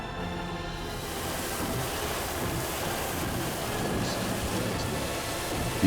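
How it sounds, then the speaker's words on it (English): Loud, steady roar of strong wind gusting upwards of 70 miles per hour during a storm, buffeting the microphone, with heavy broadband rumble throughout and a brief harder gust at the very end. "These winds gusting upwards of 70 miles per hour"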